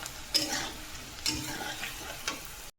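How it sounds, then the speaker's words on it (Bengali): Tal pitha (palm fritters) sizzle steadily in a pan while a utensil scrapes through them in a few separate strokes, close and alone. "এবার একটু নাড়িয়ে দেবো"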